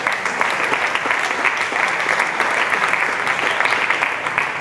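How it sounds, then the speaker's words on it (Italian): Steady applause from a conference audience at a round-table event on sport, society and media language, dense and even throughout with no voices over it. "Questo applauso avrebbe condiviso con altri colleghi."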